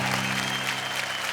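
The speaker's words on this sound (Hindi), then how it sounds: "जोरदार तालियां संतोष आनंद के लिए" A studio audience on a poetry show gives poet Santosh Anand loud, dense applause, a steady wash of clapping that fills the whole brief moment.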